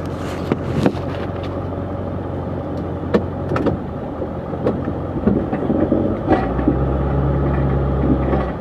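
Snowplow truck working to widen a driveway, its engine holding a steady low rumble with scattered scrapes and clunks, shifting to a deeper, louder drone near the end.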